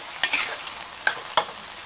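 Pork stir-frying with red curry paste in a wok, a continuous hiss of frying with a few sharp scraping clicks from the spatula, close and fairly steady.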